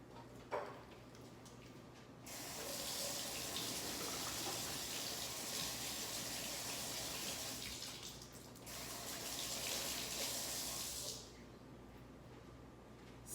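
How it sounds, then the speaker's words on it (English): A kitchen tap runs steadily as hands are washed, a soft hissing stream that flows for several seconds, pauses briefly, then runs again before shutting off. "You go ahead and wash your hands"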